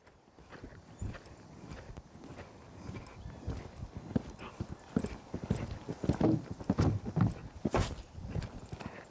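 A horse cantering at a riding lesson, its hoofbeats thudding in a steady three-beat rhythm that grows louder as it nears and then fades. A few scattered snorts are heard, with no one talking.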